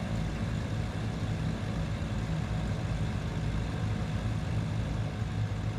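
Twin piston engines of a Cessna 414 in Microsoft Flight Simulator 2020, a steady throaty low drone that holds constant and fills the whole stretch without any voices.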